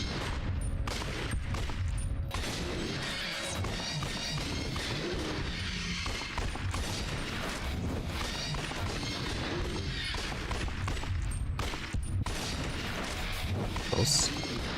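Gunfire in the video game Judgment: dense, rapid shooting mixed with crashes and impacts, running steadily throughout with a voice talking over it.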